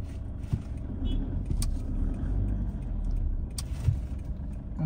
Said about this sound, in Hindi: ट्रैफिक पूरी जाम है